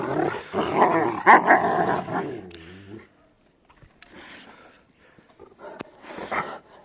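A loud stretch of close Rottweiler growling and snarling gives way to a near-silent pause, then scattered softer growls and yips.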